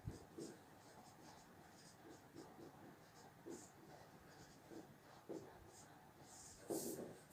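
A teacher writes the definition of a concave mirror on a board during a physics lesson on spherical mirrors: quiet, scratchy strokes in short irregular bursts, close but faint.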